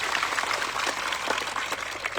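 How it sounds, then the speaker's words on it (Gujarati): A large crowd of thousands claps together at an outdoor political rally against harm to the Aravalli hills, making a dense, busy patter of many hands throughout. "સૌ માટે એકવાર જોરદાર આપણે તાળીઓ પાડી લઈએ"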